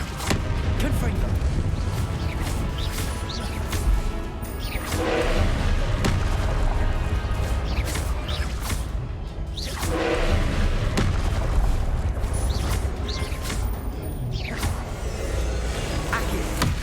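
Fiery Confringo spell blasts in Hogwarts Legacy go off as repeated booming bursts. The thuds are spaced several seconds apart over a steady, dense wash of game effects and music.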